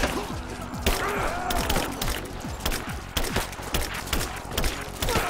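Rifle fire in the game Rise of the Tomb Raider comes as dense, rapid volleys of loud cracking shots with thuds and impacts, continuing without pause for the full stretch.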